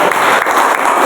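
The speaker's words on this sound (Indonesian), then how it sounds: "yuk kasih tepuk tangan ya" Classroom of students clapping together during a religious studies lesson, a short, dense and loud burst of hand claps close by.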